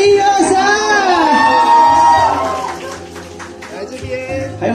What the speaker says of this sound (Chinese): 那现场粉丝们，建议的掌声，一二三，粉丝们来个尖叫声